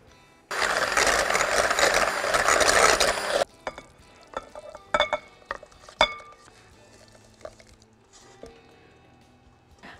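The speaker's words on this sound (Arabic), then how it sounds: "هنبتدي نضرب بياض البيض بتاعنا" Egg whites being beaten for a hazelnut chocolate cake make a loud, steady whirring burst of about three seconds. Scattered clinks and light scraping of utensils follow in a quiet kitchen, with no talking.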